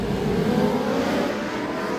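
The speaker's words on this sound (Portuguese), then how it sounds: "Os pilotos já vão sair para a sua volta de apresentação." Racing motorcycles from the GP Light class roar off for the presentation lap at the Goiânia circuit, a loud, dense engine drone that rises then eases slightly, heard close and continuous with no talk.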